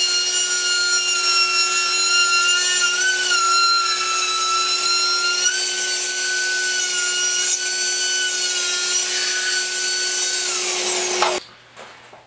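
Router with a bearing trimming the laminate edge on a table saw outfeed table, a loud continuous high whine with shifting pitch that cuts off near the end, no talking.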